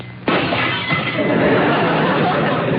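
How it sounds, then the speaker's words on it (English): A sudden loud crash of breaking glass, followed by a sustained clattering, tinkling spray of shards that fades slowly; a 1947 radio show sound effect. "And a shattering of glass."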